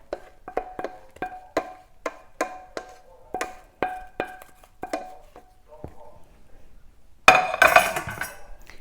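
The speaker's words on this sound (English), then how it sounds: "we just keep stirring" A utensil clinks in a rhythmic series against a glass or metal container while stirring a homemade pot-cleaning mixture, about a dozen sharp ticks, then a brief rough burst of noise near the end.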